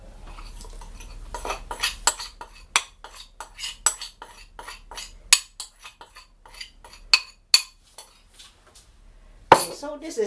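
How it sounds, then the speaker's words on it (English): A utensil stirs pancake batter in a bowl, giving rapid, uneven clinks and taps against the bowl's side, close and fairly crisp, ending in one sharper knock. "I will stir it until the batter is smooth"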